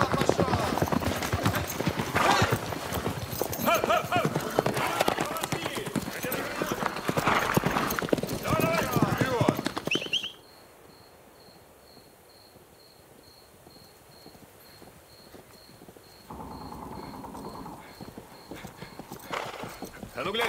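Horse hooves clip-clopping with a horse's whinny in a military film scene, dense and loud at first, then crickets chirping steadily in a quieter stretch, with speech heard.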